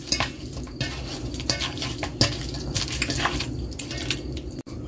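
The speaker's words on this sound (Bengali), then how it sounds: "ভালোভাবে মেখে নেব।" Fish pieces worked by hand with salt and chili powder in a bowl, giving wet squishing and soft clinking stirring sounds in a steady, irregular rhythm, close and fairly quiet.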